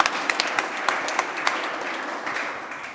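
An audience at a tech talk on artificial intelligence gives a round of applause, with a dense, even patter of many hands and a few sharper individual claps standing out near the front.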